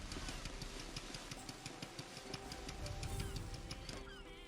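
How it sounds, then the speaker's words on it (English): A boat engine from the video game Tales of Legendia runs at a low, rough idle under game music and effects, faint and continuous, with no voices. "You're gonna blow out the engine. It's already making noise."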